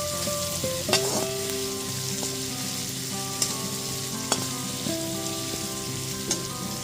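Ginger and green chili paste sizzles steadily in a pan for a light fish curry with ridge gourd and potato, with occasional sharp clinks of a spoon stirring against the pan.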